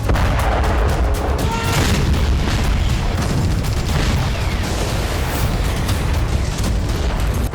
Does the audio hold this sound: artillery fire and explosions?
yes